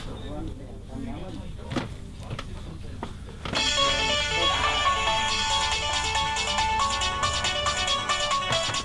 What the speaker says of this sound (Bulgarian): Телефонът ти звъни, ма.